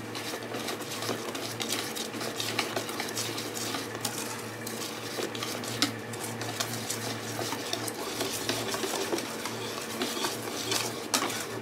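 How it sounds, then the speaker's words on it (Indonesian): Cake batter tinted with yellow food colouring being stirred in a bowl, giving a steady run of close clinks and scrapes of utensil against the bowl, with no talking. "Diaduk."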